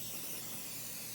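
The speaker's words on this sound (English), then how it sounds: "I'm going to use some butter flavor spray" Butter-flavor cooking spray hisses in one brief, steady burst over broccoli.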